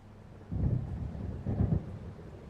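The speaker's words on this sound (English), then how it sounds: "It seems there's a storm coming." Low rumbling thunder of an approaching storm in the game Alan Wake, two rolling swells close together, fairly faint, with no talk over it.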